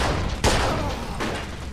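Gunfire from the game Mafia II, set in a shootout on a staircase, comes as a couple of loud booming shots, the first sharp and near, the second softer, over a continuous noisy background.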